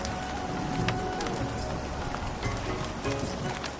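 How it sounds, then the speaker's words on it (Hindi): Cartoon sound effect of rain falling, a dense steady patter with scattered sharper drops throughout. "अचानक से बारिश होने लगती"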